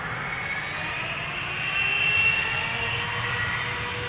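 Boeing 777 airliner jet engines at Schiphol Airport, a steady distant roar with a thin high whine that swells slightly midway and then holds, with no one talking.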